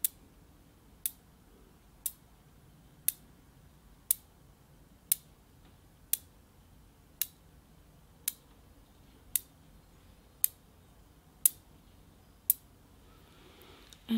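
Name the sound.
objects clicked together for Reiki ASMR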